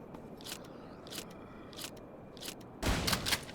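Gunfire in the zombie survival game HumanitZ: several sharp, short shots spaced apart, then a louder, denser burst near the end, with no talk over it.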